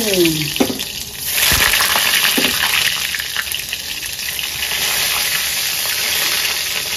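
Eggplant slices dropping into a fully heated kadai of oil, a loud gushing hiss and crackle that swells at once and holds steady, close up and with no talk over it.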